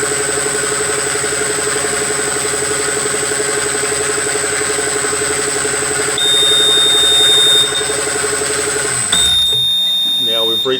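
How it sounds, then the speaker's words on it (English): Marksman Smart Pump wine press pump running with a steady mechanical hum and whine, then a high electronic warning tone beeps in near the end, with a person speaking over the machine. "So at 118 litres, it will give us our warning sound again."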